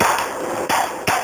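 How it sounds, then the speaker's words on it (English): Hammer taps on a frozen Coca-Cola ice block encasing a phone, three sharp close knocks spaced about half a second apart over a steady background hiss. "So I'm going to go ahead and just even it out here with this hammer."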